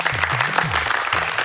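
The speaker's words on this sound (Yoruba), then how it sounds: "ẹ pàtẹ́wọ́ fúnra yín" A studio audience claps for contestants in an African children's game show, a brief continuous patter of hands layered over a low looping musical tone.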